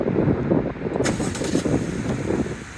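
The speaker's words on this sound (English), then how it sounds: "as you can see, the vehicle will start up automatically" A 2022 Jeep Wrangler Unlimited Sahara engine starting by remote start, a loud, steady low rumble of the motor running close by throughout, with a brief higher hiss partway through.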